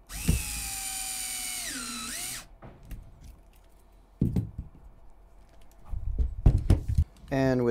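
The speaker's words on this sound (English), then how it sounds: "just getting that screw in" A power drill whirs for about two seconds, its pitch dipping as it drives a 20 mm screw into an upper link of an HPI Venture RC car kit. Soft clicks and handling noises follow.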